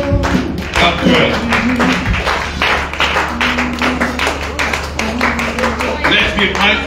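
A church congregation claps hands together during a worship service, a loud, steady run of close hand claps with tapping and thumps, mixed with music and voices throughout.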